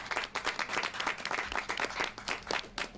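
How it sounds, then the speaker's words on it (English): An audience at a border security address in Houston claps in a moderate round of applause, individual hand claps audible within a steady, fairly distant patter. "why don't we give her an applause for the commitment and purpose of her words"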